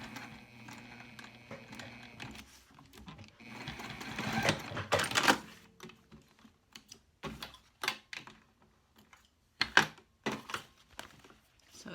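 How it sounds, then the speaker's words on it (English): Domestic sewing machine top stitching along the edge of a fabric wallet over its card slots, heard in several short bursts of whirring stitches separated by pauses and light handling clicks, close and moderately loud. "I'm going to pop back over to the machine and I'm just going to top stitch just along this line here"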